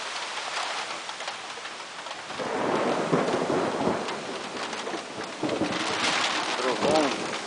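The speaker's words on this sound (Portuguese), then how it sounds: "Trovão junto com relâmpago." Rumbling thunder with lightning rolls under steady heavy storm rain in Sertãozinho, swelling in loudness a couple of times, with faint voices in the background.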